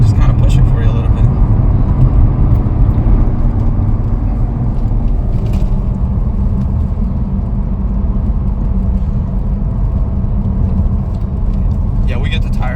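Inside a 991 Porsche Turbo tuned past 650 hp, the engine pulls hard as it accelerates, a loud, dense roar that stays continuous for the whole stretch with no talking.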